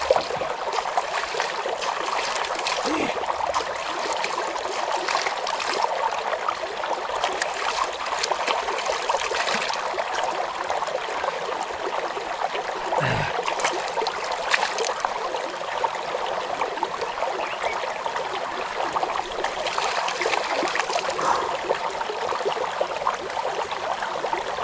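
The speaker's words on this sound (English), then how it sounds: "I feel like taking a shower here in the river." River water pours and splashes steadily during an outdoor shower in a river, a continuous close rushing wash with occasional sharper splashes and no talking.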